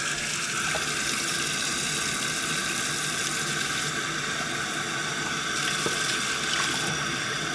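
Tap water pours steadily into a kitchen sink, a constant close splashing rush with no break.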